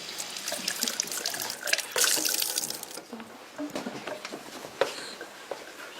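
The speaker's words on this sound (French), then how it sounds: "Maintenant, je rince." Gloved hands are rinsed under a running tap, a steady hiss of flowing water with splashes that eases after a few seconds and leaves softer dripping and trickling.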